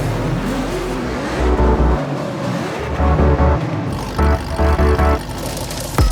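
Drift cars at a racetrack rev their engines hard, with loud, rising and falling bursts of throttle, deep rumbling pulses and brief lulls between revs.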